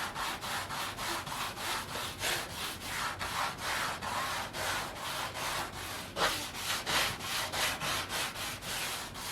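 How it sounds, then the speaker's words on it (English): Guitar frets are polished by hand with light pressure, a rhythmic back-and-forth rubbing of about two strokes per second, close and steady with no talk. "it does a real nice job of polishing up these frets"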